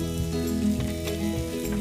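Spicy steak searing in a hot pan gives a steady, close sizzle with soft crackling and pops throughout, with no voices over it.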